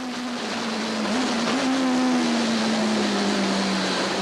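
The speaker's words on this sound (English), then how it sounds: "It's great race cam action from the Van der Linde Sassel Beamer" Onboard a BMW touring race car in a 1998 touring car race at East London: a loud, steady engine drone with a single clear tone that rises slightly and then slowly falls, with broad road and wind noise and no talk.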